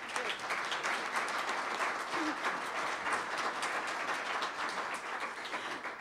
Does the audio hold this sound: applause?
yes